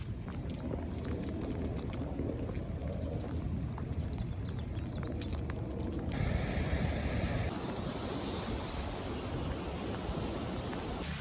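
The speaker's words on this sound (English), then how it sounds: "Waterfall in Dana Point." A waterfall at Dana Point roars as a steady, dense rush of falling water. The sound is broad and continuous and stays unbroken for the whole stretch, and no one talks over it.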